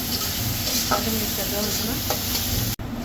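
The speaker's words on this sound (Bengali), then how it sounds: "এই দেখেন পেঁয়াজটা খুব সুন্দরভাবে লাল লাল ভাজা হয়ে গেছে" Sliced onions with green chilies, cumin and bay leaves fry in hot oil in a pan, giving a steady close sizzle with occasional stirring scrapes before the sound cuts off abruptly near the end.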